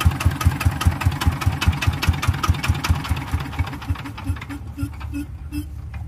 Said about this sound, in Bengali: ইঞ্জিনের সাউন্ডটাও খুব একটা যে খারাপ হয়েছে তা না, খুবই ভালো আছে